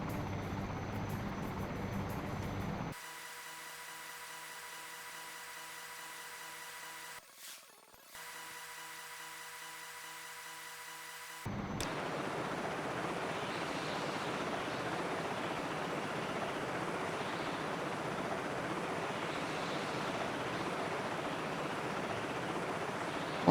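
In the Search and Rescue 4 video game, a helicopter flies over a harbour with a steady rotor and engine drone that changes tone partway through and then becomes a broader, louder continuous roar.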